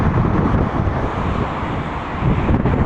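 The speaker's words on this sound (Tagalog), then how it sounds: "Lakas ng hangin, nakakatakot." Loud, steady wind roaring and buffeting the microphone, a continuous dense rush with no pauses.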